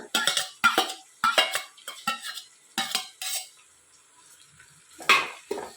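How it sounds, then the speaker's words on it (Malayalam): Chopped carrots and tomatoes being sautéed in a pan, with a series of sharp scraping and clinking stirring strokes from a utensil against the pan, close and fairly loud, with short pauses between bursts. "ഇനി ഇതെല്ലാം കൂടെ ഒന്നുകൂടെ വഴറ്റിയെടുക്കാം."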